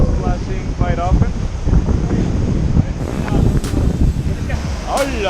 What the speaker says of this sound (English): big waves are splashing quite often